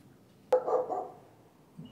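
An outdoor dog barks once, sharp and moderately distant, followed by a fainter yip a moment later against a quiet background.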